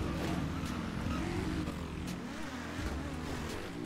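A BMW S1000 motorcycle engine in the GTA RP game, a steady droning growl held at a constant level with slight shifts in pitch, close and continuous with no talking.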